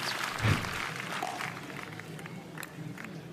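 Spectators at a pickleball championship match in Atlanta give a brief murmur and rise of approval after a rally, a soft crowd swell peaking early and then fading into a steady low hubbub.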